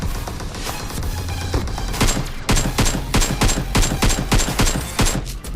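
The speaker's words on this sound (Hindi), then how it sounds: "और सामने का ओर से फायर आ रहा है" Gunfire in the battle royale game PUBG Mobile comes as loud, close bursts of rapid automatic shots, with a steady fast rattle through the second half.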